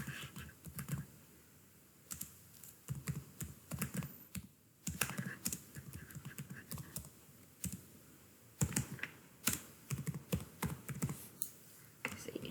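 A computer keyboard clacks in irregular bursts of keystrokes and short pauses, close and fairly quiet, with no voices.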